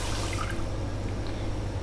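Water runs steadily into a metal pot holding a stand, a continuous splashing pour over a low hum, with no one speaking.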